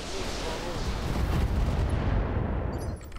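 Gunfire in the tactical shooter game Roguepoint, a dense, loud barrage of shots and blasts rolling continuously for a few seconds before cutting off near the end, with no talk over it.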